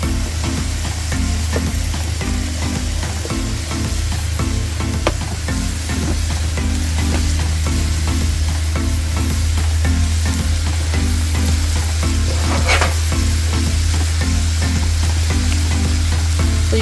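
Skirt steak slider filling with garlic powder and brown sugar sizzles and caramelizes in a hot pan, giving a loud, continuous, crackling sizzle under a steady low hum, with occasional faint clicks.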